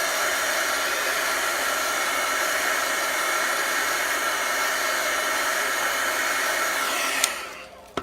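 A hair dryer blows steadily and close on a chalkboard to dry the chalk, a loud continuous whoosh that runs for several seconds before clicking off and winding down.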